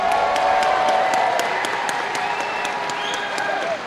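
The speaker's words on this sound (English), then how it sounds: "a round of applause for these two fighters." Sustained applause from an MMA event crowd fills the space for the whole stretch, a dense, steady wash of clapping with some cheering mixed in, loud and close throughout.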